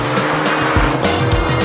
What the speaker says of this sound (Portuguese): a gente ouve melhor também o barulho do escape